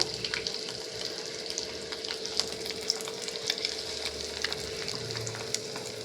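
Eggs frying one at a time in oil seasoned with salt and turmeric give a steady, close crackling sizzle with scattered sharp pops and a faint low hum underneath, with no voices.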